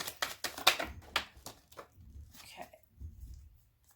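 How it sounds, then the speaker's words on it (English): Tarot cards are shuffled by hand in a quick run of soft papery riffles and taps, close and quiet, fading into scattered lighter shuffling toward the end. "One more shuffle."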